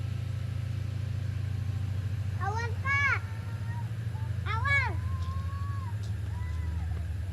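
A CC 205 diesel locomotive of a Babaranjang train in Indonesia idles nearby with a steady low rumble throughout, while a child's high-pitched voice speaks in short bursts over it.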